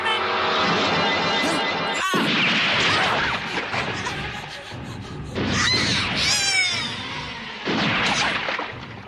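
Gunfire in a late-1980s anime action scene, loud cracking shots and crashing impacts over a dense, busy soundtrack, with a sharp burst near the start and more clatter later.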